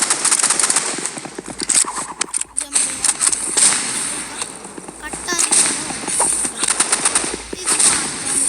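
Rapid bursts of gunfire in the Roblox video game rattle out in loud, dense volleys with brief pauses, mixed with game noise and a voice speaking over it.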